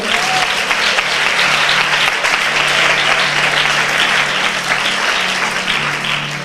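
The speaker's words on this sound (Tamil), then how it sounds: "ஜோர ஒரு கைத்தட்டு கொடுங்க." A large church congregation applauds steadily during a Tamil Christian service, dense clapping filling the space for several seconds without pause before tapering slightly at the end.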